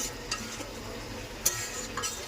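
Cabbage cooking in a pan on a gas stove, with a faint, steady sizzle and soft stirring scrapes, plus a few light clinks and brief rattles of utensils against the pan.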